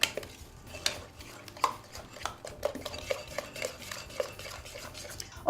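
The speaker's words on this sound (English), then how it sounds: "Mix that in, make sure everything is blended" A utensil stirring wet batter in a bowl, close and steady, with repeated light scrapes and clinks against the bowl in an uneven rhythm and no voices.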